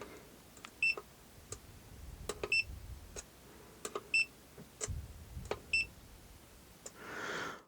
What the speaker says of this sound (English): The audible signal, usually a quick beep, is very helpful as it allows you to stay focused on the components being tested.